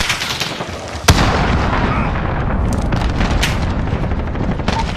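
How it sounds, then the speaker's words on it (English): Allied cruise missile launch in Call of Duty Modern Warfare, a sharp blast followed by a sustained loud roaring rumble against dense background gunfire and battle noise. "Allied cruise missile away!"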